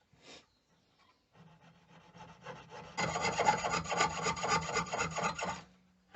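A hand saw with one end of its blade detached works through a slot inside a piece for a hunting knife tang, starting with a few faint strokes, then building into loud, rapid rasping back-and-forth cuts close by.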